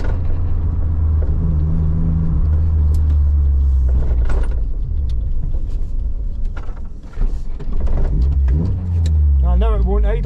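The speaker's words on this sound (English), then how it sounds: "It's not too happy idling at the moment." A Vauxhall Nova's engine idles roughly with a steady low rumble, a few uneven surges and revs standing out, and a voice talks over it near the end.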